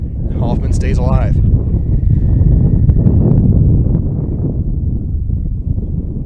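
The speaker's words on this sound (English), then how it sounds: "As the wind starts to gust a little bit again up here" Wind gusts across an outdoor high school baseball field, a loud, broad rumble buffeting the microphone steadily throughout, with a voice briefly speaking near the start.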